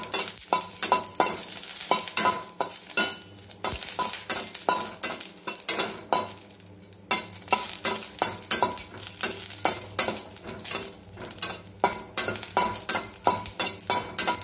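Green chilies sizzle in hot oil for a coriander-stem chutney, with steady frying crackle and repeated scraping stirs of a utensil against the pan, close and fairly loud with no talking.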